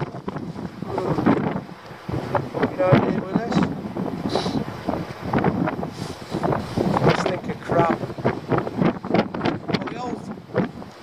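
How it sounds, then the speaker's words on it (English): Cold wind gusting across the end of the pier at Girvan on Scotland's west coast, a steady rushing roar buffeting the microphone while someone talks over it throughout. "that wind doesn't half make it cold"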